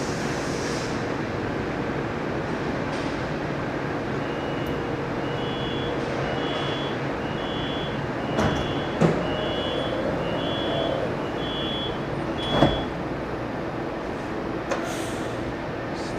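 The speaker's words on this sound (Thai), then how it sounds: "สำหรับตัวเสียงปิดประตูนี้นะครับ คาดว่ารถไฟฟ้าโมโนเรลสองสายนี้นะครับ อาจจะใช้เสียงเตือนปิดประตูในลักษณะนี้นะครับ" A repeating series of short electronic warning beeps sounds for the closing doors of a Bangkok Gold Line monorail, steady and moderately loud over the hum of the train interior, with a couple of brief knocks as the doors shut.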